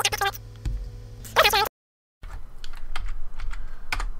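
Someone types on a computer keyboard in quick bursts of close clicks, with a brief dead-silent gap in the middle before the tapping resumes at a steady pace.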